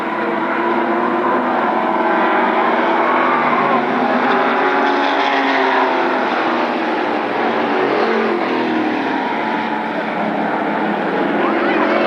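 Late model stock cars race on an oval track at Berlin Raceway, with steady loud engine roar from several cars running together. A commentator talks over the noise.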